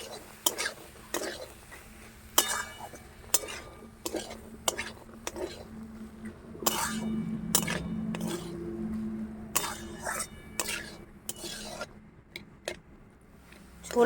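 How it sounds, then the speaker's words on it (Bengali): Boiled peas and chickpeas are stirred together in a pan while cooking oil-free ghugni, giving soft repeated scraping and faint clinks of a spoon against metal, with quiet background hiss. "সেদ্ধ করা মটর আর দিয়ে দিচ্ছি সেদ্ধ করা ছোলা খুব ভালো করে একসাথে নেড়ে চেড়ে নেব"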